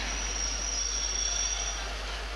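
A train at a station hisses steadily for a couple of seconds, with a thin high squeal of railway wheels running through most of it and a low mains-like hum beneath.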